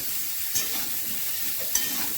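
Cauliflower florets fry in a hot pan for a rohu fish curry, giving a dense continuous sizzle with a couple of brief stirring scrapes, close up and with no talking.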